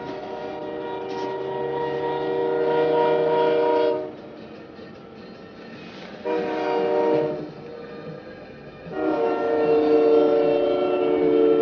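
A freight train passes close by at a road crossing where a truck was struck, sounding its horn in three long harmonic blasts over the steady rumble of rail cars.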